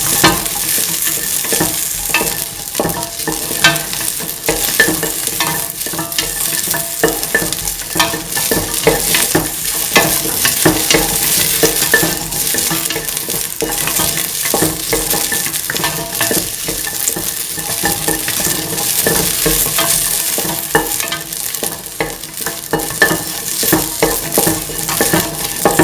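Garlic and shallot stir-fried in oil for a coconut milk chicken stew, giving a loud, continuous close-up sizzle and crackle with frequent stirring scrapes throughout.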